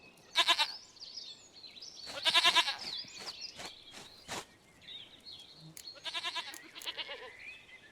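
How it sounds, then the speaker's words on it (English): A goat bleats several times in The Witcher 3, in short quavering bursts with pauses between them, fairly close. Faint insect chirping runs steadily underneath. "Goat of mine!"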